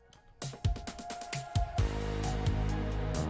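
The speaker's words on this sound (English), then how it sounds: "And then we have this down hit clap." A steady drum beat with punchy kicks and snare hits, joined partway through by a loud clap on the downbeat over a sustained backing.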